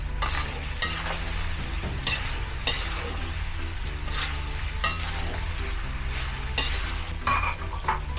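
Garlic and pork frying in a pan for an Ilocano dinardaraan, with steady loud sizzling and repeated scraping stirs of a utensil against the pan, no talking.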